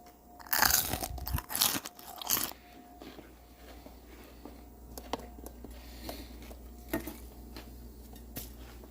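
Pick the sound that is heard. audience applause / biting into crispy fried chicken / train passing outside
biting into crispy fried chicken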